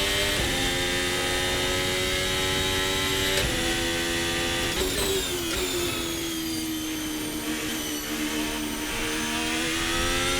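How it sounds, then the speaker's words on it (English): A Formula Hybrid 2022 F1 car in the Assetto Corsa game screams at high revs, a loud, sustained whining engine note with pitch shifts during gear changes, continuous throughout. "You can hear the different engine note in this Formula Hybrid."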